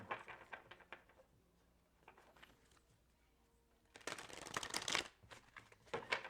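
Tarot cards are shuffled in short riffling bursts, soft at first and then a louder, longer flutter near the end, close by with no talk.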